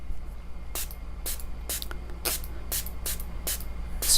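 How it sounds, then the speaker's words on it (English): Spray bottle misting water onto a watercolor landscape painting, about seven or eight quick sharp spritzes in an uneven rhythm over faint background hum. "so I want to spray it."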